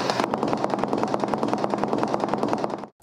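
A tapping machine's hammers strike a floor during a sound insulation test, a loud, rapid, machine-regular clatter of impacts close by that runs on without voices before stopping abruptly.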